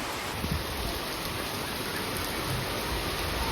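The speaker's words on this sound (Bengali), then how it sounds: "এইমাত্র বৃষ্টি স্টার্ট হয়ে গিয়েছে গাইস। প্রচুর ফোঁটাগুলো খুব বড় বড় পড়ছে" Rain starts falling after a Kalboishakhi storm, big drops making a steady, dense hiss of rainfall outdoors, even and continuous with no voices.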